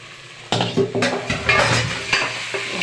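Half a kilo of chicken with turmeric being stirred in a pot, a spoon scraping and knocking against the metal in several close, fairly loud strokes over a soft sizzle.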